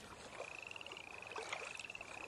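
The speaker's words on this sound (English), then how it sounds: "the occasional croak of a frog" Frog calls in a quiet outdoor setting by a lake, a faint, steady pulsing trill running through the whole stretch with a few softer croaks mixed in.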